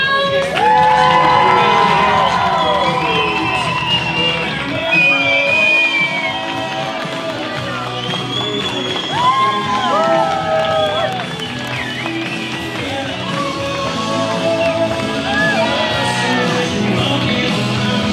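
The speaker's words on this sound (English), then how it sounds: "give a big round of applause for your new bride and groom" Wedding guests cheering and shouting for the new bride and groom, a loud dense crowd of overlapping whoops and yells that carries steadily throughout.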